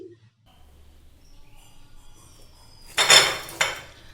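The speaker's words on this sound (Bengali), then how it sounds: "তো এর শব্দটা শুনেই বুঝতে পারছেন যে এগুলো কতটা খাস্তা ও মুচমুচে মতো রেডি হয়েছে" Crispy fried kachoris made from flattened rice and potato being lifted onto a plate, heard as a quiet lull followed by two short, bright bursts of brittle clattering and crunching, close by.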